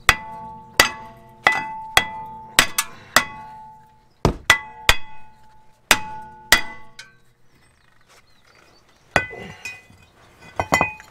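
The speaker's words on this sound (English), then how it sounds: "With your hammer, give it a good whack." A hammer strikes a brake rotor on a Volkswagen MK6 again and again, loud ringing clangs in an uneven rhythm with short pauses, each hit leaving a bright metallic ring.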